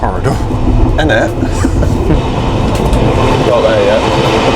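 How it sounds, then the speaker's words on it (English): Luxury sleeper train running from London to Scotland, a steady loud rumble and rattle of the carriage in motion with faint clicks, heard from inside a narrow corridor while people talk over it. "I swear this train likes to go around corners as we're trying to navigate through this narrow corridor."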